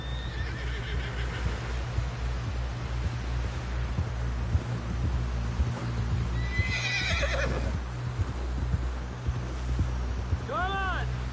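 A horse in the Red Dead Redemption 2 video game, with steady clip-clop hoofbeats and rustling movement under a low rumble, then a loud whinny midway and another near the end, with talk in between.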